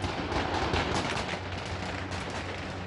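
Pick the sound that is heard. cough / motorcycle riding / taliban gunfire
taliban gunfire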